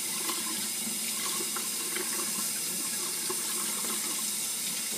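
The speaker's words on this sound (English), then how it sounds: "you may want to get the water started sooner because the hot water takes a while to go through all the pipes" Hot water pours steadily from a tap into a sink in a screen-printing workspace, a continuous, loud hissing splash that holds for the whole stretch with no talking.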